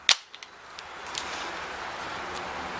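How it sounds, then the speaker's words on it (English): ASG-KWA MP9 A3 gas blowback airsoft machine pistol fired on semi-auto through a chronograph with .20 g BBs, a single sharp crack up close, followed by faint small clicks and light handling noise. "we're going to put 5 rounds through the chronograph and see what kind of feet per second we get"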